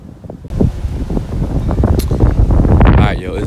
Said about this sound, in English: it's very windy out here, man